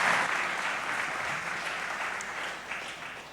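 A church congregation applauds, a dense, steady clapping that fills the whole stretch and eases off slightly toward the end.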